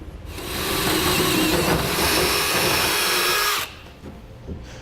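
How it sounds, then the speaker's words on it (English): A power drill whines loudly and steadily for about three seconds, grinding through the metal bed of a 2016 Ram 2500 pickup up close, then cuts off abruptly leaving faint background noise. "you'll drill through the bed surface and then down through the hat channel"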